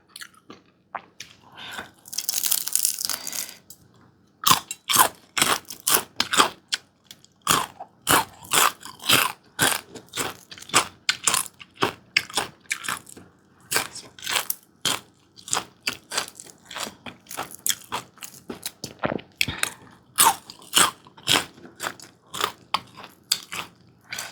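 Close, loud crunching and chewing of small white pomfret fried crisp with garlic, a long run of rapid irregular bites and crackles with brief pauses, no talk.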